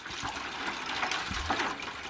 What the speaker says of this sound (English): I'm going to add the water in now